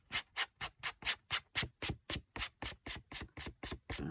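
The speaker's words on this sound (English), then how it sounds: "I'm going to wipe this off" Ink is wiped from a craft stamp in about fourteen quick, even rubbing strokes, each a short rasping swipe close by, steady in rhythm with no talking.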